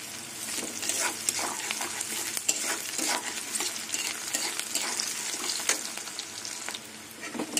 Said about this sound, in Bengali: লঙ্কা আর পেঁয়াজ লাল লাল করে ভেজে নেব